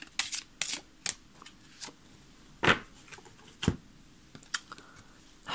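Shamanic healing oracle cards shuffled by hand, several crisp riffling bursts and soft card slaps spaced irregularly, close and quiet with no talking.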